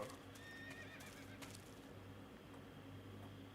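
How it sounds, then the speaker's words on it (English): A horse whinnies in a stealth video game, its neighing sounding over a steady low ambient hum with soft hoof clops, moderately loud and with no one talking. "No, I heard the whinny of a horse."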